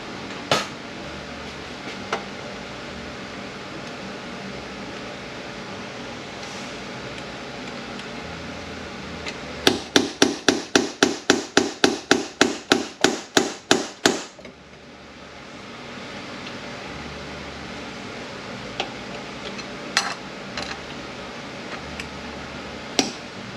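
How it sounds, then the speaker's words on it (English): A pump puller is used to remove the pump during disassembly of an A8LR1 automatic transmission: a rapid series of about a dozen sharp metallic clicks in a rhythmic burst, then quieter occasional taps against steady background noise. "see if my pump puller will pull it out"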